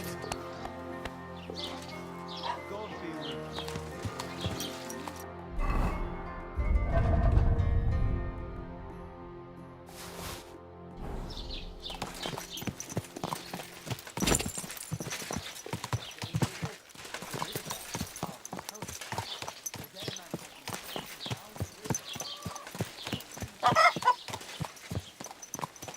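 Horse hooves clip-clop in a brisk, steady rhythm, close and clear, in the video game Kingdom Come: Deliverance II, starting after a quieter stretch with some music-like tones and a few thumps.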